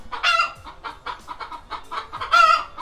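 Chickens cluck and squawk on a ranch in a busy, overlapping flurry, with a few louder calls standing out close by and no talk.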